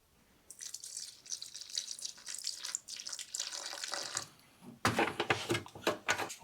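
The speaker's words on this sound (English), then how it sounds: "so we got to pour the equal amount of this in" Epoxy activator pours into urethane primer for a 280Z paint job as a thin, steady liquid stream. Two close, continuous pours are split by a short pause, and the second is louder and splashier.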